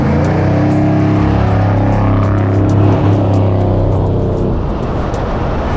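A lowered Chevy Blazer with an LSX V8 engine drives, its deep engine rumble loud and steady as it pulls through the gears, heard from inside or close by with road noise and no talk.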